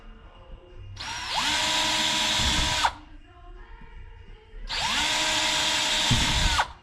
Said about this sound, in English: PVC pipe is really easy to work with, really easy to drill into